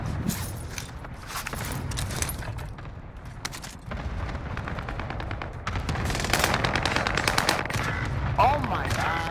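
Automatic rifle fire in the Warzone battle royale game, with dense rattling bursts and explosive booms coming from several directions across the whole stretch, some shots close and loud, along with footsteps.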